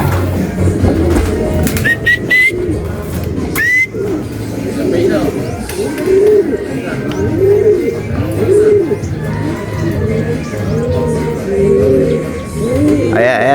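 Pigeons coo repeatedly in a loft, soft rolling calls close by, with people talking over them and a brief flutter early on.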